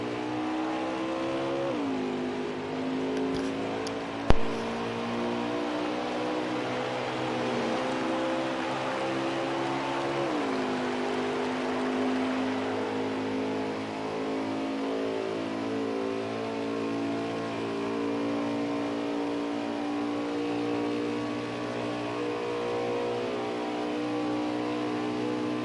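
Race car engines in a NASCAR Xfinity Series racing game drone steadily throughout, with pitch sweeps as cars shift and pass, a brief sharp click early on, and no talk over the sustained roar.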